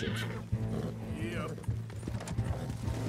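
A horse in the video game Red Dead Redemption 2 neighs and whinnies loudly, with hoof clip-clops and someone talking over it throughout.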